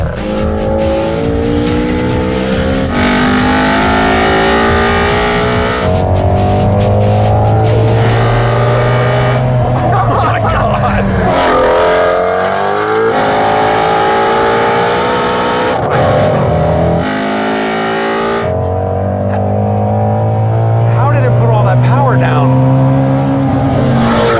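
A Ford Mustang Shelby GT350R lapping a banked race track, its engine droning loud and steady throughout with rising and falling pitch through gear changes and brief lifts, with tire noise and a voice talking underneath at times.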